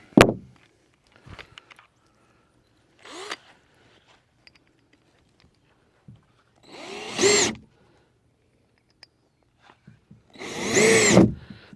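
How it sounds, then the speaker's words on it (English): A power drill drives a screw into a wooden shed joist in two short whirring bursts, the second longer, separated by quiet pauses with faint handling clicks and thumps. "I'm making sure that I screw this into the joist"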